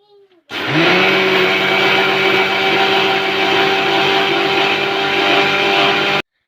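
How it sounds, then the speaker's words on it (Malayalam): A kitchen mixer grinder grinds soaked rice with water into batter for vellappam, starting abruptly into a loud, steady whirring motor drone close by that runs for about six seconds before cutting off. "ആവശ്യത്തിന് വെള്ളവും ഒഴിച്ചിട്ട് നന്നായിട്ടൊന്ന് അരച്ചെടുക്കുകയാണ് കേട്ടോ ചെയ്യുന്നത്"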